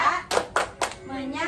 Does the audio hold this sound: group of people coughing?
no